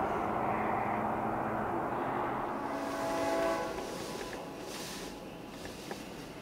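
A freight train rumbles steadily past at about 60 miles an hour, a broad heavy roar that swells and then eases slightly, with no clear horn blast standing out.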